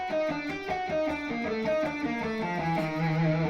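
An electric guitar plays a two-notes-per-string finger exercise with the first and second fingers, even picked notes stepping steadily upward in a clear, moderately distorted tone with no talking.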